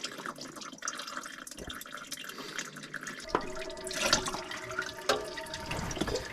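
Engine oil draining from a 2003 GMC Sierra 4WD with a 4.8L V8 during an oil change, a steady trickling, dripping pour of liquid heard close and continuous without talk.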